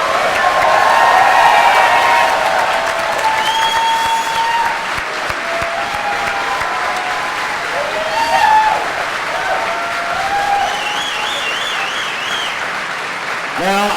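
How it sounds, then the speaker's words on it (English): An audience at a fan event for a cast, including the Daredevil showrunner, gives a long, loud round of applause with cheers and whoops, and voices call out over the clapping. "How about a round of applause for this incredible cast?"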